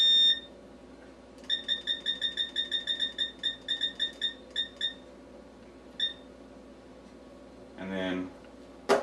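A kitchen oven timer sounds in quick repeated high beeps, a run of about a dozen short chirps followed by a few scattered ones, near and clear over low background noise, with a brief sound near the end.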